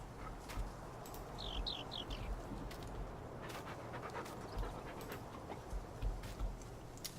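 A dog pants in Farming Simulator 2019, with quick breathy huffs near and moderately loud, while faint bird chirps sound in the background of the farm setting.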